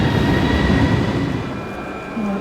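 An Italo high-speed train pulls out of a station platform, a loud, steady low rumble with a faint sustained whine above it, heard close and continuous.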